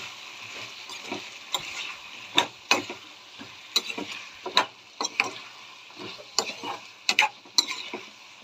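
Peas and potatoes being sautéed in a pan, a soft background sizzle punctuated by irregular sharp scraping and tapping strokes of a spoon against the pan, close and with no voices.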